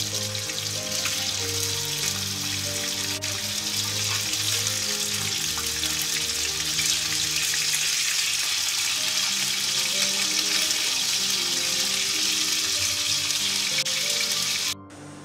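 Beef seekh kababs fry in hot oil with a loud, dense, continuous sizzle that stays close and steady before cutting off abruptly at the end.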